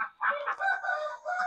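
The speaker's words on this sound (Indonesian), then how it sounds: "Ayam oren itu ayam petelur ya. Ayam petelur itu ada sekitar 52 ekor lah di dalam sana." Chickens, including orange laying hens from a flock of about 52, cluck and crow in a continuous close burst with a few short pauses.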